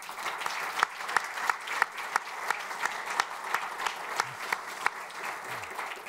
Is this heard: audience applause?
yes